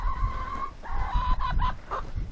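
Chickens cluck and squawk close by, a run of several short calls with a sustained tonal cry, over faint background rustling and no talk.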